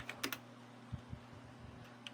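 A computer keyboard clicks close by as a task description is typed, a short quiet burst of a few irregular keystrokes with soft pauses between them.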